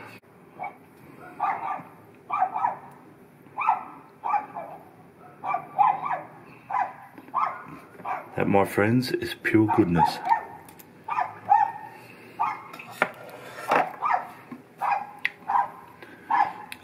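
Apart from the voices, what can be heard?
dog barking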